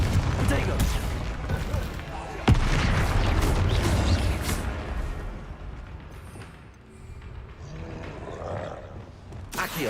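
A Confringo blasting spell explodes in the Hogwarts Legacy game, a loud booming blast with roaring rumble amid dense combat noise, a sharp crack near the start, then fading.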